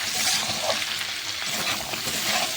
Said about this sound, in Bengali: এখন সুন্দর করে লাল লাল করে ভাজা করে নিই